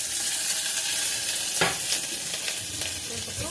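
Onion and curry leaves frying in hot oil as a tempering for Tamil fish kulambu, with garlic already in the pan: a steady close sizzle with stirring scrapes and brief crackling bursts.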